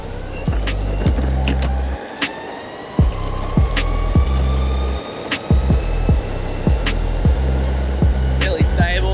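Lycaon Swift belt-drive electric skateboard running at full throttle in pro mode, a steady loud motor whine with rising pitch and repeated rhythmic thumps from the wheels over pavement joints, close and continuous throughout.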